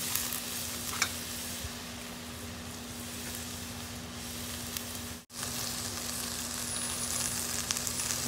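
Drumstick pieces cooking in a pan for a ridge gourd and drumstick curry, a steady soft sizzle with a low hum and a faint tap, briefly cut to silence midway, no talking.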